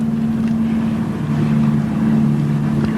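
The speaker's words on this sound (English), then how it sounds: "The fire engine just coming out here." A fire engine pulls out at a crash scene, its steady, low engine drone running continuously and fairly loud with no siren evident and no talk.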